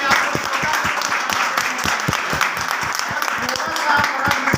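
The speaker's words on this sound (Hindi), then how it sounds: "एक बार जोरदार तालियां बजाइएगा हमारी बेनिफिट प्लस के लिए" An audience at a business presentation gives a hearty round of applause, with steady, rapid clapping that continues throughout while a voice talks over it.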